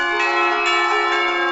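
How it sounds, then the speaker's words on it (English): A loud, sustained church bell rings in the video game Katawa Shoujo. Its rich, shimmering tone holds steady and swells gently without any talk. "The ringing of the bell snaps us both back to reality and we break the kiss."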